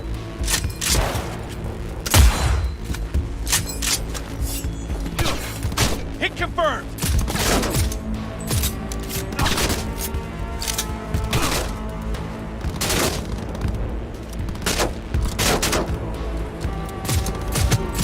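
Rapid gunfire from a firefight in the video game Cyberpunk 2077, loud repeated shots and booming impacts in an irregular stream over a continuous thumping backdrop, with voices shouting at times.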